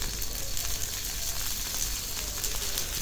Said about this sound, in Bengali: তেলে ভেন্ডিটা ভেজে তারপর আমি এটা রান্না করব